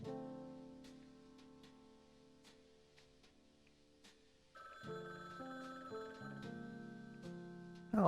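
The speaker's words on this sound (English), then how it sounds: "Oh, my phone's ringing." Phone ringing in the Frog Detective video game, a bright electronic ringtone that repeats in tonal bursts over soft background music, clear and close with no voices.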